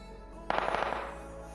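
Gunfire rings out in PUBG Mobile as a quick burst of about half a dozen sharp cracking shots in rapid succession, moderately loud, then fades into a quiet background.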